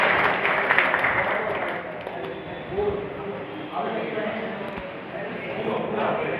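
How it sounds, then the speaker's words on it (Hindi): An audience at a teachers' honour ceremony claps in a broad, steady patter of applause that swells and eases over several seconds, with a voice speaking over it. "तालियां बजा करके स्वागत करें।"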